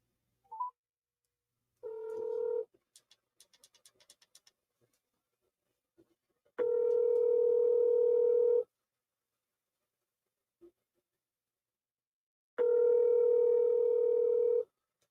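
A call placed on speakerphone to a law office: a short burst of dialing tones, then a series of rhythmic ticks, followed by two long, loud ringback tones separated by several seconds of silence.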